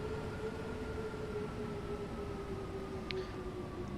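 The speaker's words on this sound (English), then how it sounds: "They sort of sound like an old D stock." An old D stock London Underground train motor in a train simulator game gives off a steady whining hum with sustained tonal lines over a low rumble, level and unbroken for a few seconds.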